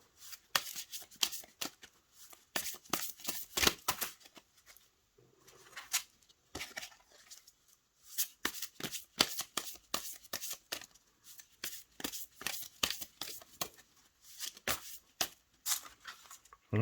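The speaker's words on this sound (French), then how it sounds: "Je vais battre les cartes" Oracle cards shuffled by hand, giving repeated rapid papery riffles and flutters in irregular bursts with brief quiet gaps, close and fairly soft.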